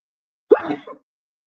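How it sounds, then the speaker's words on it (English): A single sharp sneeze bursts in close up out of silence, with a short trailing exhale afterward and quiet on either side. "I have to sneeze."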